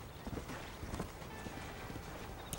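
A horse's hooves clip-clop at a brisk pace in the western video game Red Dead Redemption, a steady run of soft thuds over a dense, noisy game soundscape.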